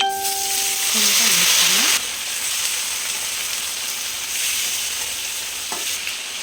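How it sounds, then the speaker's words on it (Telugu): Chopped tomato pieces frying in a pan for tomato roti pachadi, a bright, strong sizzle with stirring scrapes; the hiss flares loudly for the first two seconds, then settles into a steadier, softer frying sound with a short clink near the end. "ఇప్పుడు ఇందులోకి మనం ముందుగానే కట్ చేసి పెట్టుకున్న టమాటా ముక్కలు వేసుకుందాం."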